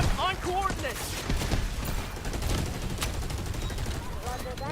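Artillery barrage and gunfire in the shooter game Delta Force, a rapid series of sharp bangs and crackling blasts, close and loud, with a voice talking over part of it.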